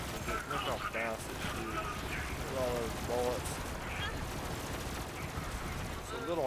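Rapid automatic gunfire from Moze's gun in a video game, a dense continuous fusillade with overlapping shot bursts and game effects running throughout the clip, while a voice talks over it.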